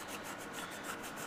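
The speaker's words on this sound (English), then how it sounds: "just take it and just kind of clean up the magnet" Rust being rubbed off the magnet of a Briggs and Stratton ignition coil, heard as a brief, close, continuous scrubbing rasp with a quick back-and-forth rhythm.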